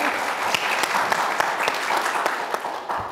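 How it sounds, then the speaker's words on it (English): Audience applause follows a panel speaker at a mental health discussion, a steady patter of many hands clapping for about three seconds, moderately loud with a few sharper individual claps. "Round of applause for Gabe."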